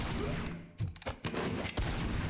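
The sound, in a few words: gunshots in video game Dune: Awakening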